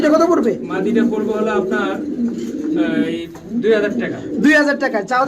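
Pigeons coo at a busy pigeon market, with soft repeated calls close by, mostly under steady nearby talk from men discussing the birds.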